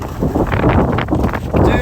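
Wind at an outdoor skatepark buffets the microphone in loud, rough gusts, with a voice talking briefly over the rumble.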